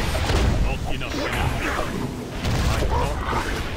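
Booming in-game explosions from World of Warcraft combat, a sustained rumbling roar of blasts and impacts layered with game effects, loud and close throughout, with a voice talking over part of it.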